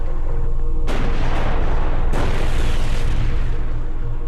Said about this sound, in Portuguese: ambos os lados continuam trocando tiros